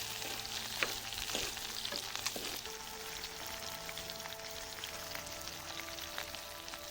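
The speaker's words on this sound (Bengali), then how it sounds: "সিমের গুটিগুলো একটু সিদ্ধ হতে সময় লাগবে, তাই আমি সিমের গুটিগুলো প্রথমে দিয়ে দিচ্ছি।" Bean seeds and a little green chilli fry in a pan for a Bangladeshi bharta, a steady close sizzle and crackle with occasional spatters and stirring scrapes, no talking.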